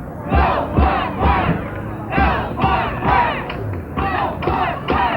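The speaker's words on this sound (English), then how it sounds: "Listen to that crowd." A loud crowd at a 1983 beep baseball championship game roars in repeated swelling waves of cheering and shouting, close and continuous throughout.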